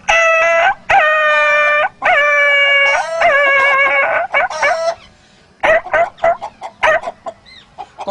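A man vocally imitates a dog being struck with a stick, giving a series of sharp, loud yelps and howling cries in quick bursts, followed by broken, choppy whimpers.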